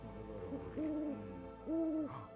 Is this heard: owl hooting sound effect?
yes